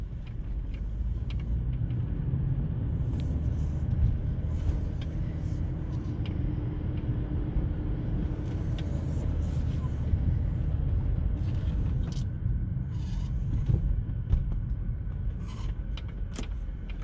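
A 1990 BMW E34 535i with a five-speed manual gearbox drives along, its engine giving a steady low rumble inside the cabin, with faint rattles and clicks scattered over the continuous road noise.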